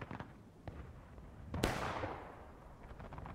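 A single rifle shot fires in the Civil War shooter War of Rights, one sharp crack with a decaying tail rising over a noisy battlefield background of distant scattered shots.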